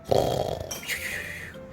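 A voice imitates a wolf's snore in a Little Red Riding Hood story, a deep rattling inhale followed by a softer whistling exhale, heard once.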